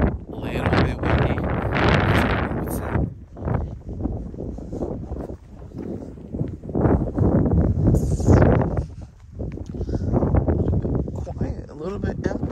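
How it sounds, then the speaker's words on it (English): Wind gusts buffet the microphone on a hiking trail at Scottsbluff National Monument, a loud rumbling roar that rises and falls, with a person talking through it. "a little bit windy."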